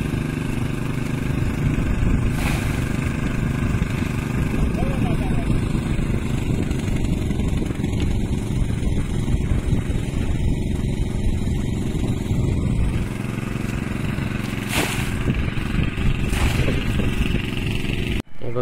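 A motorcycle hauling loads of rice seedlings for paddy transplanting in a field at Kumbhavade, Rajapur, runs with a steady, fairly loud mid-pitched engine drone throughout, with a few brief knocks over it.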